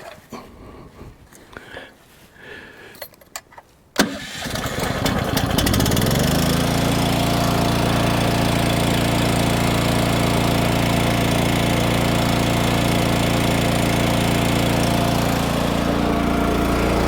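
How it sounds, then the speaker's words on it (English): Small gasoline engine on a wood splitter cranks after a few quiet seconds of handling noise, catches abruptly and settles into a loud, steady idle that runs on evenly to the end. "Okay, let's start it up and hope for the best here."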